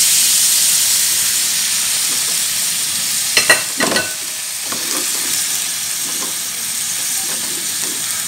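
Water spinach (kangkung) with shrimp and seafood stir-fries in a hot pan, a loud continuous sizzle and hiss with a few sharp scraping stirs and bursts of steam near the middle.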